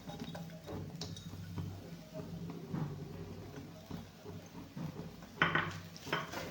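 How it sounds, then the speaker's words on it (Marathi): Grated coconut and jaggery stirred in a pan for modak filling give quiet scraping and clinks of a spoon against metal, with a faint low sizzle, close and unhurried, and no talking. "आता गुळ चांगलं विरघळेपर्यंत आपल्याला ह्याला हलवून हलवून घ्यायचंय"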